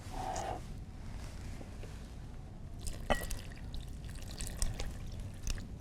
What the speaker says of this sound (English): you want to add 3 cups of milk